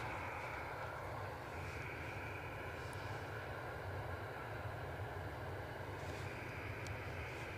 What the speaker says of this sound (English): The Jet2 you're looking at, off to Fuerteventura.